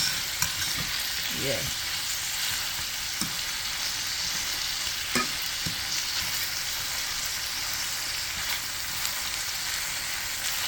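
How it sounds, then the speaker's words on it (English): Tomato sauce softening in a pan for a mackerel dish, a low steady sizzle and bubbling heard from close by over a long stretch, with occasional soft clicks of a utensil and one brief spoken word. "Just getting my tomato sauce softened a little bit."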